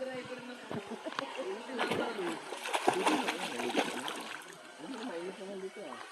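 Water splashes and sloshes from someone swimming outdoors in the Philippines, irregular splatters close by, with people talking over it.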